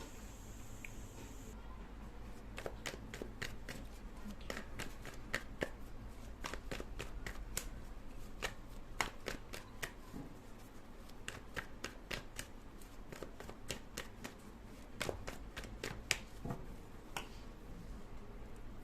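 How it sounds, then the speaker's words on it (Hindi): Tarot cards are shuffled and drawn in a steady run of crisp, close snapping flicks that last throughout, set against a low background hum and with no one speaking. "मैं सबसे पहले कार्ड निकाल लेती हूँ"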